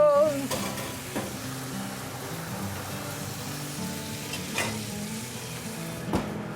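Cornish game hens brown in a hot pan with a steady, soft sizzle and crackle that continues throughout.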